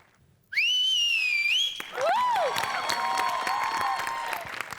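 Loud piercing whistles from a studio audience at a Marathi comedy show, rising and sliding in pitch, followed by crowd noise and cheering.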